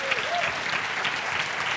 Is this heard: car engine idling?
no